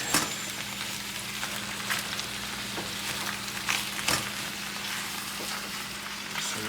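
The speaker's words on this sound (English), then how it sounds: "Getting that nice little sizzle going." Food sizzles steadily in a frying pan, a constant crackling hiss with occasional louder pops, close by and without speech.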